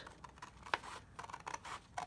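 Scissors snip through paper while folding a small sketchbook, giving a few faint, quick crisp cuts and rustles, close by in a quiet room.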